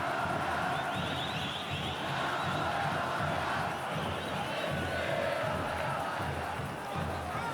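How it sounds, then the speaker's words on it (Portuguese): A dense stadium crowd roars and chants continuously at the Arena da Baixada as Atlético Paranaense fans cheer during a 2007 Brazilian league football match against Corinthians, a thick steady wall of sound. "E agora é a vez do Atlético ter a sua torcida mais animada na Arena da Baixada."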